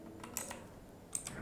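A few faint, sparse clicks come from a computer keyboard as keys are pressed while editing in Premiere Pro, with several light taps spread over a quiet background.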